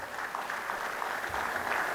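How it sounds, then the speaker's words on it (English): Audience applause at an annual lecture and fellows' induction ceremony, a steady dense wash of clapping throughout the short stretch, moderately loud with no voices over it. "Can you clap for us?"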